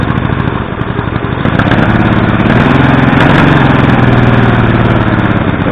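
A Mini Hog engine runs steadily while its carburetor is being adjusted, with a loud, continuous buzzing drone that picks up slightly and holds a steady pitch partway through.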